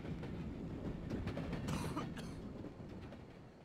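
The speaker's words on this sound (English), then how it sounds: "Will the train not come that way if they're down there?" A train rolls past in the wrestling video game Wrestling Empire, a steady dense rumble with rattling clatter and a brief bright screech in the middle, gradually easing off toward the end.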